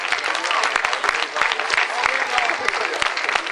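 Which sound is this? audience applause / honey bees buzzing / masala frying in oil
audience applause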